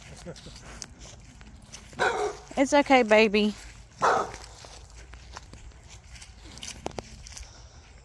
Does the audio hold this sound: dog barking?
yes